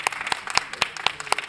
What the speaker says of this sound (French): je voudrais qu'on applaudisse et qu'on remercie tous les ouvriers du chantier